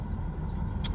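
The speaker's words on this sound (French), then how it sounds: "Le véhicule se comporte normalement, sauf qu'au idle, on a le problème du RPM." A car engine idles with an idle RPM fault linked to code P0622, giving a steady low rumble close by with a brief sharp tick near the end.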